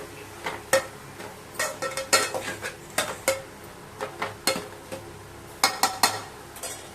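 A spoon stirs and scrapes onions with masala sautéing in a pan for Chennai-style vadakari, irregular clinks and taps over a soft sizzle, close and alone without speech.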